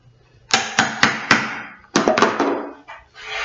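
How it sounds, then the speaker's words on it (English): Chisel paring away wood on a child's Viking chair, giving a quick run of sharp, close cutting knocks in two bursts, a few clustered strikes each with a short decay. "we'll take our chisel going away from us, and we will pare what is left"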